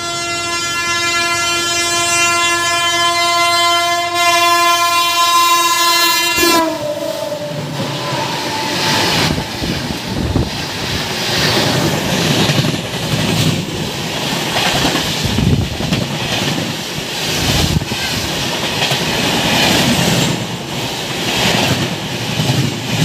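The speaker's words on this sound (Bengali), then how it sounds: "এবার আমাদের সাথে যে ট্রেনের দেখা হবে তার ট্রেন নাম্বার হচ্ছে 15960 কামরূপ এক্সপ্রেস।" Kamrup Express train 15960 sounds a long, steady horn blast for about six seconds, then passes close by with a loud, continuous rumble and rattle of wagons on the rails.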